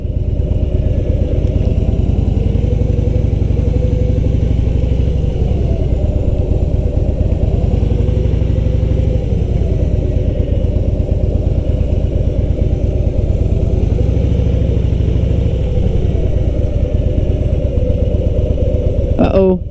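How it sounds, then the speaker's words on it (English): Motorcycle engines idle and rumble loudly and close by at a vintage car and bike show, a steady low throb with periodic swells in revs throughout. "Some bikes there."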